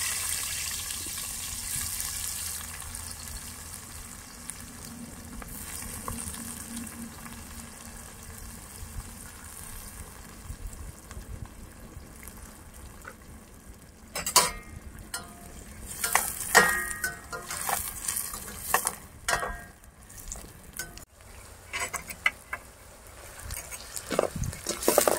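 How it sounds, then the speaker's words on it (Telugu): Onions frying in hot oil for a big fish mandi, a steady sizzle and crackle running throughout, getting busier and louder in the second half with sharper spitting bursts and clatters. "అదే ఆయిల్లో వేపుతున్నాను అండి నేను."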